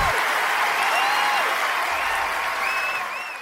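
Applause from a crowd of players in the online game LOTRO (Lord of the Rings Online), a steady dense clapping wash lasting a few seconds and fading slightly at the end, with faint game chimes above.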